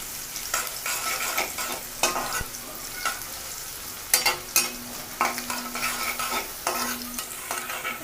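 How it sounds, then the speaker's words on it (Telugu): Chopped green chillies fry in hot oil for a chicken curry, a constant crackling sizzle broken by repeated spatula scrapes and knocks against the pan every second or so, close and fairly loud. "ఈ పచ్చిమిర్చి వేసుకొని కొంచెం వేయించుకుందాం."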